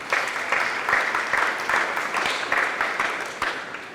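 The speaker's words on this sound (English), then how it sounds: "Give them a round of applause." A crowd claps steadily for several seconds at an elementary school ribbon-cutting ceremony, a dense, even wash of applause with no voices standing out.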